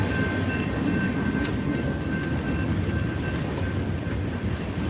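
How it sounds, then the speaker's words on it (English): A train rolls past nearby with a steady, dense low rumble and faint wheel noise, holding an even loudness throughout with no talk. "And the train's still there."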